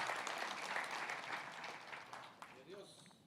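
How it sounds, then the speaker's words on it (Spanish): A church congregation applauds, a broad wash of clapping that is loudest at first and thins out toward the end, with faint voices mixed in. "Démosle palmas al Rey"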